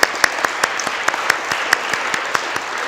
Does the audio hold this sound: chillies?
no